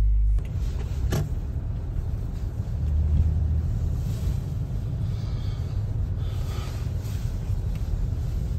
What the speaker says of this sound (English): So I'm on my way now, about an 8-minute drive